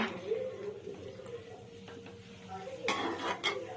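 Chicken gravy and potato are mixed in a pot, with a spoon clinking and scraping against the metal at close range, soft stirring in between, and a louder burst of clatter near the end.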